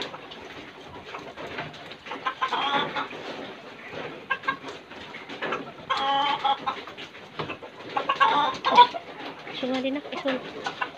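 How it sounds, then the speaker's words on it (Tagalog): Fighting roosters cluck and coo in scattered, close bursts, with people talking intermittently over and between the bird calls. "Yung ano, yung manok natin na panabong."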